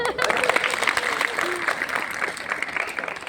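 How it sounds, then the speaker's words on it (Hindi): Audience clapping during a science-versus-magic show, a moderate scattered round of claps with some crowd murmur and voices mixed in. "ताली बजाओ।"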